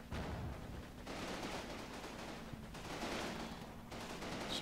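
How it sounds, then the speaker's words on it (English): Dense, continuous gunfire and machine-gun bursts rattle without pause in Combat Mission Battle for Normandy, a fight at a bridge, the volleys surging in waves at a steady, fairly distant level. "So we're still taking fire on the bridge."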